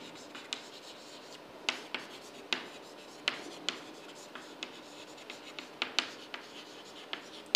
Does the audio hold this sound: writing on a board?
yes